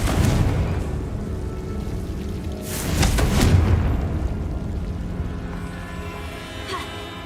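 Confringo blasting spell going off in the video game Hogwarts Legacy: a loud rumbling boom swelling midway, then a crackling, debris-like tail fading out, over a continuous low game background.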